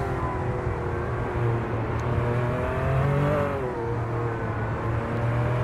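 A 2009 BMW GT2 race car in a racing game accelerates hard down a straight, its engine note climbing steadily through the gears, loud and close with no talk over it.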